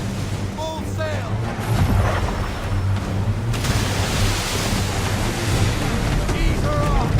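A sailing ship crosses open ocean in Assassin's Creed III, with steady wash of waves and wind roaring across the microphone, loud and continuous, while faint voices and game sounds sit underneath.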